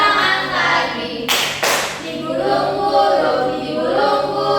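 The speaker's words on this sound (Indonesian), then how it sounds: "Bertepuk tangan" A third-grade class of children clapping hands along with a classroom action song, a couple of loud sharp clap bursts standing out amid sung voices and background chatter.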